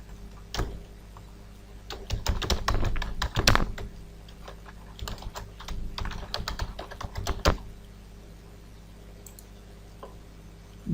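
Rapid keystrokes on a computer keyboard as an email address is typed, in uneven bursts of clicks with short pauses, close and fairly loud with no talking.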